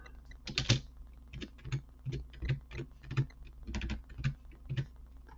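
Typing on a computer keyboard, about a dozen crisp clicks in short irregular bursts, close and moderately soft, no one speaking.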